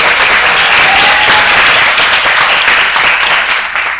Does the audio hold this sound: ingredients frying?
no